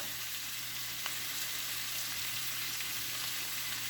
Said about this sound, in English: So we're going to add another onion while this stuff is sauteing.